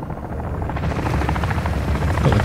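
A commander helicopter hovers directly overhead in a shooter video game, its rotor thumping loudly and steadily and growing slightly louder toward the end, with no talk.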